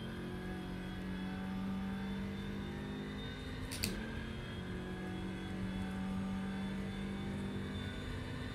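Steady onboard engine drone of a BMW M6 GT3 race car in rFactor2 at Virginia International Raceway, a constant sustained hum running throughout with one brief sharp click midway.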